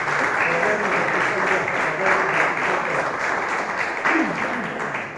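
A church congregation claps steadily in sustained applause, filling the room at close range, with faint voices and musical tones underneath.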